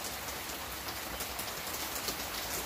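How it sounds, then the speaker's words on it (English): Steady rain pours onto a patio on a wet day, a dense, even hiss of drops striking the surface that holds constant throughout with no voices. "Rainy, rainy day, you guys."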